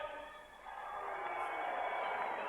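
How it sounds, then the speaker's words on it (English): Stadium crowd at a rugby league test match applauding debutant player Carl Webb, a broad wash of clapping and cheering that swells after a brief dip and holds steady, heard from a distance. "big round of applause for big Carl Webb"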